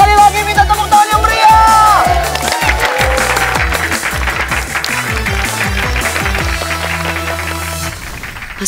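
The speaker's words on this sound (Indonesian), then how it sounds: "Sekali lagi minta tepuk tangan yang" Studio audience applauds a mystery singer called up to the stage on an Indonesian variety show, with loud, steady clapping and crowd noise under music and a sustained vocal tone.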